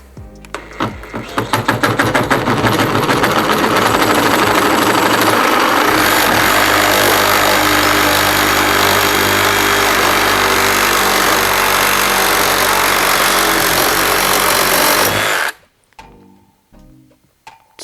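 A Milwaukee cordless reciprocating saw revs up and cuts continuously for about fifteen seconds, loud and close, then stops suddenly, leaving near silence.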